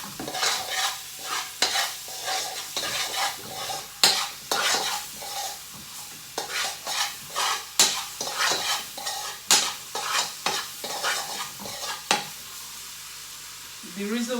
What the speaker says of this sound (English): The reason why I'm frying it with onions